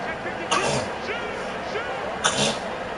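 A person sneezes twice, short sharp bursts about two seconds apart, heard over faint talk in the background during a live PS4 game broadcast.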